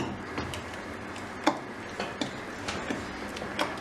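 Haleem being stirred after chaat masala and salt are added, a spoon making scattered light clinks and scrapes against the pot at an uneven rhythm, close and fairly quiet, with no talking.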